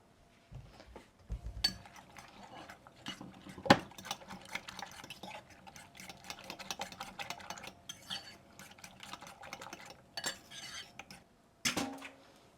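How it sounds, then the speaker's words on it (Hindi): Eggs with tomato, onion and chilies being whisked in a bowl for an omelette, a spoon or fork clinking and scraping against the sides in quick, uneven bursts, close and alone. "ये सारा मिक्स करते बस इसका मज़ेदार सी ऑमलेट बनानी है"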